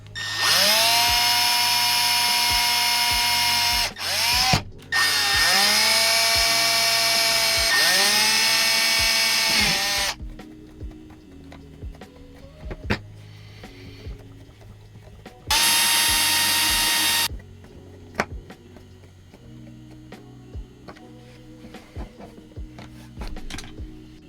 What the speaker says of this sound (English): I just used some little small screws that I had, drilled like a little pilot hole, and then kind of just used this tiny little screwdriver and threaded them in.